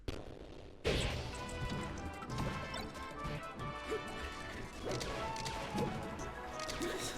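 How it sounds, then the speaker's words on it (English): Falco's laser forward smash attacks in a Super Smash Bros. match hit with loud crashing smacks, one sharp impact followed by repeated hard thwacks and blasts over busy game sound. "These laser F smashes."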